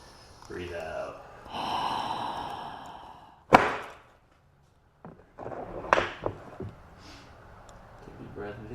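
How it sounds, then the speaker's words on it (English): Close breathing during a chiropractic adjustment: a deep inhale, then a sharp exhale and a later breath, with some handling noise and a short silent gap. "Take a deep breath in. Breathe out."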